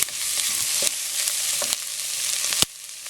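Macaroni and carrot sauté in oil in a hot pan, a bright, steady sizzle with several sharp clacks of a utensil against the pan as the pieces are stirred, no voices.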